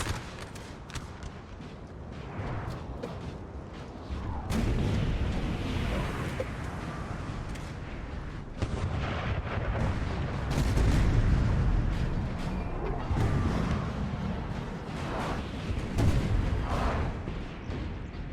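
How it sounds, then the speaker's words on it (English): Artillery batteries firing in Napoleon Total War, a long stretch of repeated booming cannon shots and rumbling volleys, some near and heavy and others distant, layered over continuous battlefield din. "let the artillery fire over their heads"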